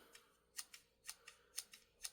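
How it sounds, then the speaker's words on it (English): Several crisp snips of multitool scissors cutting, sharp and close, in a fairly regular rhythm. "They sound more like quality scissors."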